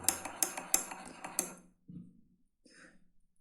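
A spoon clinks and scrapes against a dish of chocolate pudding, a few close, bright taps in quick succession followed by softer scraping and a faint rattle.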